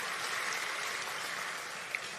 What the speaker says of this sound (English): I'd like us to give them a round of applause for the work that they have done